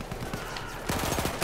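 Automatico submachine gun firing in Battlefield 1 multiplayer, a rapid stuttering burst of automatic shots at moderate level amid battlefield noise.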